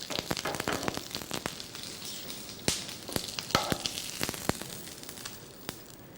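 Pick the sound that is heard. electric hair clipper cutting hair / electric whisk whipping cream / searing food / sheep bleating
searing food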